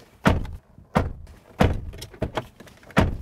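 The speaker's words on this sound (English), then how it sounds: "Door test." Doors of a 2022 Volkswagen Amarok W580S V6 ute shut several times in a row, each a close, solid, low thunk, with about five closures spaced roughly half a second to a second apart.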